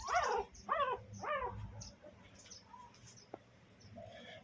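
A pet dog kept alongside rabbits and birds gives three close, sharp barks in quick succession, followed by quieter growling and rustling.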